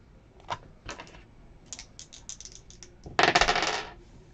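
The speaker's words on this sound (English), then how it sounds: "So dice roll top 3." Dice rattle and clatter across a hard surface at a live trading-card break stream, a few light taps leading into a louder close tumbling roll that fades out.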